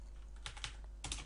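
Typing on a computer keyboard while entering math inputs in Microsoft Forms, heard as a few scattered soft key clicks followed by a short quicker burst of taps near the end, close and quiet with no speech.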